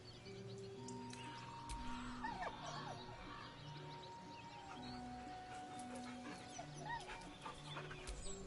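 A dog whines softly with thin, wavering high-pitched cries, faint beneath a steady tonal ambience with occasional chirps.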